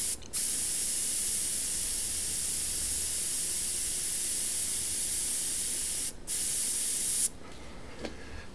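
Airbrush spraying paint while detailing a football player's face mask, straps and numbers: a steady, close, high-pitched airy hiss running almost continuously, broken by a short gap, then cutting off into quiet room tone.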